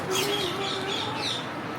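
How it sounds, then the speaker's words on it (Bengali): Faint calls and chirps from pet cockatiels come from close by, a few brief tweets over quiet background noise. "ও পাখিগুলো তাকে রেসপন্স করতেছে"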